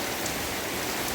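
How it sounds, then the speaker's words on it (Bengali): Heavy rain pours onto a street outside a house, a steady dense hiss that stays even and unbroken throughout, with no voices. "খুব বৃষ্টি হচ্ছে"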